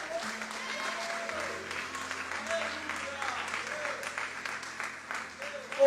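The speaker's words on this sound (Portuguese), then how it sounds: "Você pode aplaudir o nome do Senhor," A church congregation applauds steadily in a continuous wash of clapping, with voices and a sustained tone underneath.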